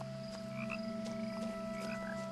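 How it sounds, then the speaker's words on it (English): Game frogs in What Remains of Edith Finch give a few brief croaks over a constant low ambient hum, with no one talking. "I hear frogs."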